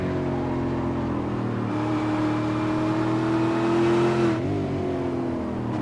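On-board V8 Supercar engine at Mid-Ohio, a loud sustained drone whose pitch climbs gradually under throttle, then dips sharply with a brief lift before picking up again.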